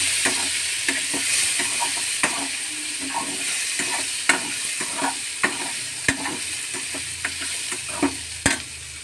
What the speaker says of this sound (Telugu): ఇవి కూడా ఒక నిమిషం ఫ్రై చేసుకోవాలి.